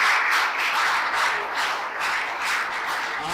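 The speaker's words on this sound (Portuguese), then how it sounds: "Vamos aplaudir nosso Deus." A church congregation claps together, rhythmic and fairly close, in pulses that swell and ease over a few seconds, with no talking.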